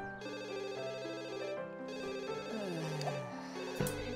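A telephone rings in The Sims 1, a game ringtone playing over layered game music with steady tonal sound throughout and no voices.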